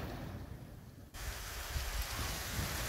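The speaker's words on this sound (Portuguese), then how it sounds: "Pra ver que está chovendo muito forte." Heavy rain falls as a dense, steady hiss, with a faint low rumble beneath and no voices.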